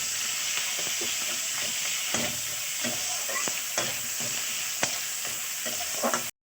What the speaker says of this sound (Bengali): এক এক করে পেঁয়াজ দিলাম। পেঁয়াজটা লাল লাল হবে, তার সঙ্গে কাঁচা লঙ্কাটাও দিয়ে দিচ্ছি।